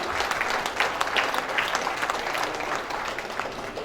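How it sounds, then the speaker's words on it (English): Audience at a business-to-business MSME meet applauding a guest walking on stage, a dense sustained round of clapping from a sizeable crowd indoors, steady throughout with slight tapering near the end. "Let's give our guest a huge round of applause"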